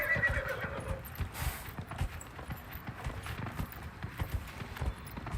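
A horse in Dragon Age: Inquisition gives a loud whinny at the start, then its hooves clop in an even, repeating rhythm up close for the rest.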